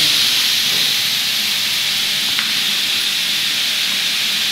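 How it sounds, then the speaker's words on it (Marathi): Onion sautés in a pan, a steady, even sizzle and hiss that runs unbroken and fairly loud throughout, with no speech over it. "आपला कांदा परतून होत आहे 1-2 मिनिट"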